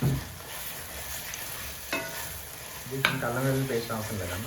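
Masala paste with ginger and garlic frying in a pan for a fish curry, a steady sizzle with a few scraping stirs, as someone talks over it.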